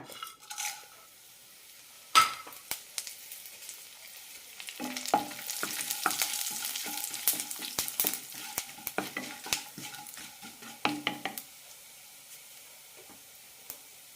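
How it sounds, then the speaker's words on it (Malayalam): Whole spices such as fennel, pepper, cardamom, star anise, cloves, shahi jeera and cinnamon fry in a teaspoon of oil in a pan, giving a steady sizzle broken by stirring scrapes and light clinks for most of the time. "പാനിലേക്ക് ഒരു ടീസ്പൂൺ എണ്ണ ഒഴിച്ചിട്ടുണ്ട് ഇനി ഇതിലേക്ക് മസാല ഇടാം വലിയ ജീരകം കുരുമുളക് ഏലക്ക സ്റ്റാർ അനൈസ് ഗ്രാമ്പൂ ഷാജീര പട്ട"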